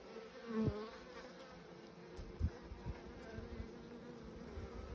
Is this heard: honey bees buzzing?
yes